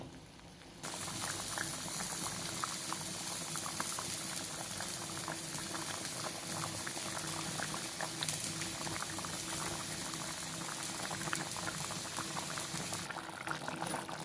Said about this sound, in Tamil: இன்னொரு மீடியம் தீயில் வச்சு கொதிக்க வைக்கணும்